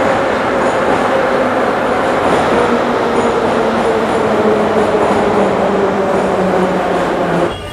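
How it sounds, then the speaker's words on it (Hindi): A Moscow metro train pulls into an underground station, a loud, steady roar of wheels and carriages with faint squealing tones that continues throughout before easing off at the end. "अभी मेट्रो आ गई है"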